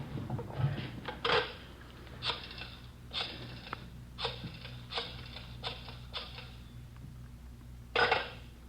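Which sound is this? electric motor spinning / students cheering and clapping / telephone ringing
telephone ringing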